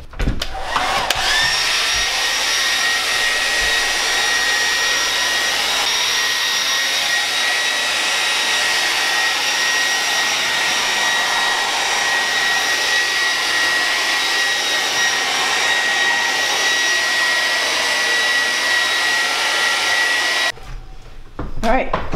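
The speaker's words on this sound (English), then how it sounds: "I'm going to use a hair dryer, 1 inch going around the whole thing," A hair dryer blows steadily and loudly for about twenty seconds while shrinking plastic insulation film over a window, a constant whooshing roar that cuts off near the end.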